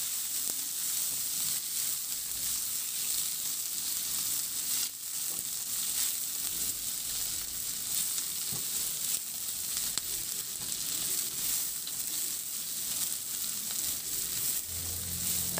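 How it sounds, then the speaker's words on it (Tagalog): Ginger and onion sizzle steadily in hot oil in a pan, a continuous close frying hiss with faint stirring scrapes running throughout, no voices. "Ihalo lang din hanggang sa maluto yung sibuyas."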